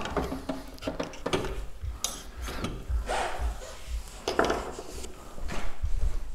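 A screwdriver pries out a dust seal on WP AER motorcycle forks, giving a run of irregular metallic clicks, scrapes and knocks in uneven bursts, close and moderately loud, with no talking.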